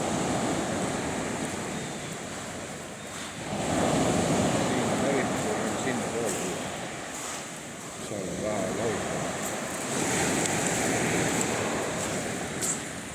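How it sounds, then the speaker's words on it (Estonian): Large sea waves roll onto the beach at Almuñécar, Spain, with repeated rushing surges of surf and wind noise in the microphone, close and fairly loud. "Aga lainetus on suur võrreldes eilse hommikuga."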